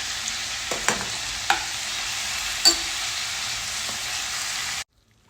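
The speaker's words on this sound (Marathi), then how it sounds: "इथे मेथी मिक्स करून घेतली." Chopped fenugreek leaves with garlic paste are stirred in a hot pan, a constant frying hiss broken by several spoon scrapes and taps. The sound stops abruptly near the end, with no speech.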